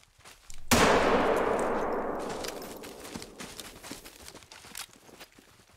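A single loud, sharp shot in theHunter: Call of the Wild, a bow-hunting game set at Layton Lake, bursts out near the start and decays over a few seconds into faint ambient rustle and light clicks.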